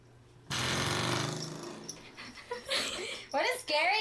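A dog pants and whimpers close by in short, uneven bursts, with people talking over it and around it throughout.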